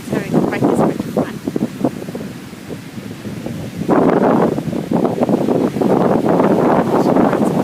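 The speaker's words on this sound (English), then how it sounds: "it's a really windy day" Strong seaside wind buffeting the microphone in loud rumbling gusts, steady and roaring with surges, no talk.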